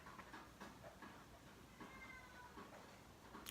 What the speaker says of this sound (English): my cat is crying